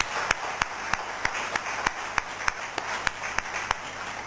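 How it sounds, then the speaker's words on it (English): Applause at a college conference, a light wash of clapping with one sharp, evenly spaced clap cutting through about three times a second, fairly quiet. "Let's give applause for them."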